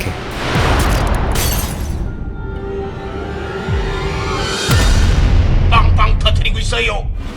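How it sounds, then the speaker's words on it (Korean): A huge, world-ending explosion in a cartoon battle between cookie characters, heard as repeated deep booming blasts with a broad rumbling roar that swells loud and holds through the clip. "빅뱅급 대폭발과 함께 모든 것이 사라져버리죠"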